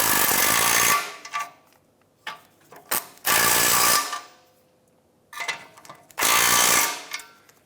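A 17mm socket wrench tightens front catalytic converter bolts on a 2007-2013 Mitsubishi Outlander, with three long, loud ratcheting runs up close, separated by quiet gaps and a few short clicks.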